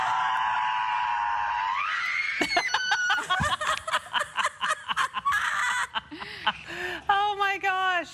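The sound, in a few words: woman screaming in a forest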